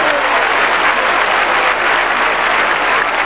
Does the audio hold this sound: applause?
yes